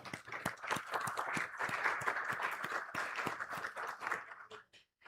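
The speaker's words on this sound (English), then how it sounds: "Let's begin with a big round of applause," Applause opens a summit, with many hands clapping in a lively, uneven patter that holds steady, then thins to a few last claps and fades out.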